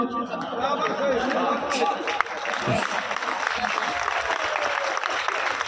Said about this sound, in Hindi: अब मजा लीजिएगा, तालियां बजाइएगा